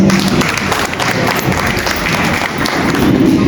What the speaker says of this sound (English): Please, parents, give a big round of applause.